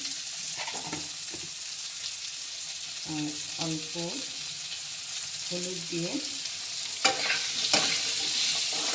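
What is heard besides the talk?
potatoes frying in a pan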